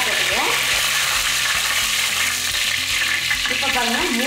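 Loud, steady sizzling of onions and coriander frying in hot oil for mutton pulao, with occasional stirring scrapes, close up and continuous.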